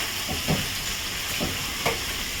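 Chicken frying in a pan on a gas stove gives a steady, broad sizzle with a few soft stirring scrapes and bumps breaking through now and then.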